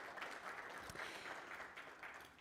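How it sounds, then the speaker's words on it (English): Audience clapping at a business forum panel session, a steady moderate spatter of hands held for a couple of seconds before tapering off. "a big round of applause for our panellists this morning"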